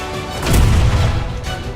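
A cannon fires in the video game Final Fantasy VII Rebirth, one heavy booming blast that swells and rolls on as a loud, dense crash for over a second.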